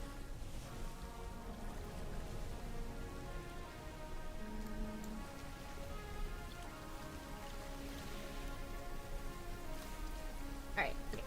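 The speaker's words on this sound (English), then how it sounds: "let me turn down the rain noise a little bit more" Steady rain ambience mixed with wave sounds and lo-fi music, playing softly and continuously in the background throughout, with a faint watery patter and a brief brighter splash near the end.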